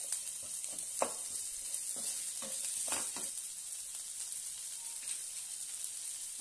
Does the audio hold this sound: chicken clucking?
no